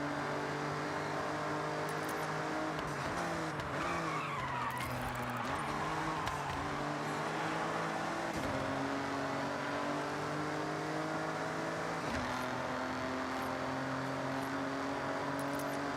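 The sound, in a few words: race car engine braking in Forza Horizon video game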